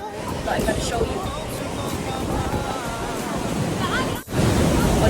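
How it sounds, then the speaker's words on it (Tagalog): Big ocean waves crash and roar on a crowded Bali surf beach, a loud continuous wash of surf with gusting wind over the microphone and a brief dip near the end. "Oh, there's a big wave."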